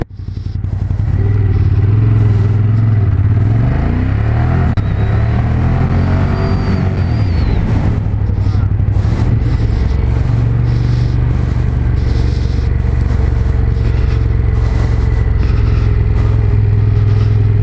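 A Ducati motorcycle on the Panamericano race circuit, fitted with Pirelli tyres, roars loud and steady throughout, its engine pitch sweeping down as it brakes hard and then holding a sustained drone.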